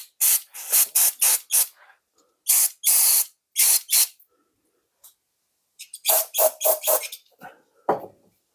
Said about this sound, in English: So let's give it a bit of a carb clean.